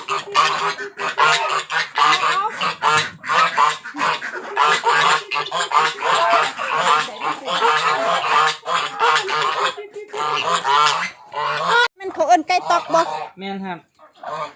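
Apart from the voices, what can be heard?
ducks on a Thai duck farm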